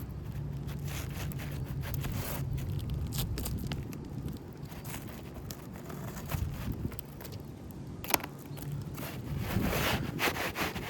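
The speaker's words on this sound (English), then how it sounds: "with my shingle cutter. Make sure this has got the right camera angle. I'm gonna cut this 1/4 inch off." A shingle cutter slices a quarter inch off an Oakridge Pro 30 AR roofing shingle, a steady scraping, rasping cut lasting several seconds with a brief sharp snap near the end, heard up close with no talking.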